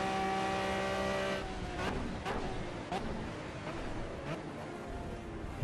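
An Aston Martin V12 Vantage races around the Monza GP circuit in the Project Cars sim, its loud, steady engine drone holding a high whine before dropping into revving with quick shift blips and tire noise.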